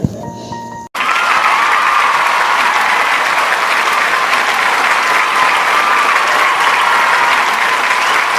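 An audience at an orchestra show breaks into loud, sustained clapping after a short pause, a dense continuous wash of applause from a large crowd.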